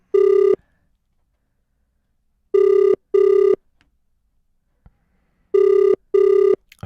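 A WhatsApp call ringing: paired electronic tone bursts in a regular ring-ring pattern with silent gaps between them, clear and loud.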